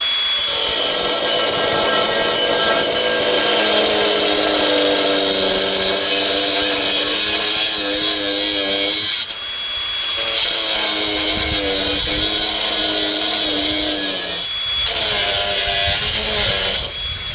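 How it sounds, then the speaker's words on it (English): Craftsman V20 brushless cordless angle grinder cuts through 1/8 inch steel closet-rod tubing with a loud, continuous high-pitched whine and grinding, dipping briefly twice as the disc bites and finishes each cut. "now I want to cut this closet rod. It's 1/8 inch steel tubing"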